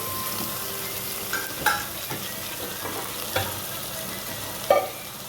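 Spices, red chilli, turmeric and peanuts are stirred in a frying pan for a Marathi pumpkin bhaji. A steady sizzle runs throughout, broken by a few sharp scrapes and clinks of a spoon against the pan. No voices.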